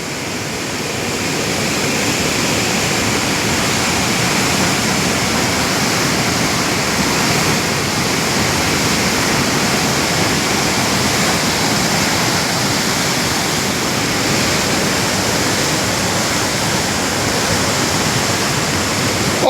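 Water overflowing the Madhopur dam near Pathankot during heavy rain, a loud, unbroken broadband roar of rushing floodwater, close and steady for the whole stretch with no talk.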